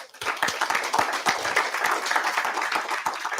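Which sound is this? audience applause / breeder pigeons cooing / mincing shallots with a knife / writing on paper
audience applause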